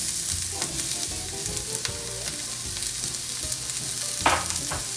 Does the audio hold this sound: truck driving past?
no